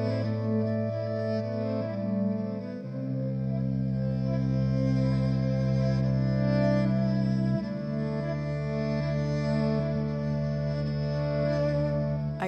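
An electric cello bowed through an amplifier, with long sustained pitches that shift every few seconds, steady and full, with no voices over it.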